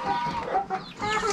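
Several hens on a farm cluck and murmur nearby in a continuous, overlapping chatter, fairly loud and close, with no talking.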